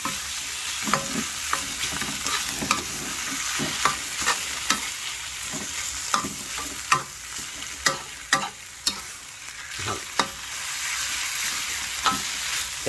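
Beef stir-fried in a pan for a Thai panang curry, a loud continuous sizzle with brisk, rhythmic spatula scrapes and clacks recurring throughout, close up and without voices.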